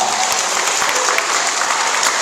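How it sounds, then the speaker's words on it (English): A children's school assembly audience claps loudly and densely for a couple of seconds, a continuous close wash of many hands. "Give yourselves a round of applause."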